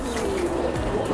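A pair of Bombay pigeons cooing at a pigeon sale, soft low coos heard faintly under a steady background hiss.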